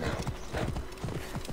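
Rhythmic clip-clop of a horse's hooves trotting through a city in Assassin's Creed Origins, close and brief, with a faint whinny-like tone underneath.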